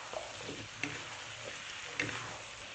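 Chicken pieces stir-fried in a wok with oyster sauce and dark soy sauce, a soft steady sizzle with a couple of light spatula knocks, quiet and close.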